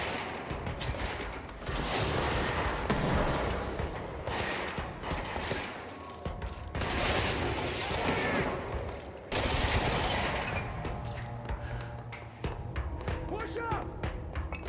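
Gunfire in the video game Control, with repeated bursts of shots and mechanical clatter through a tense firefight, loud and close, with voices talking over parts of it.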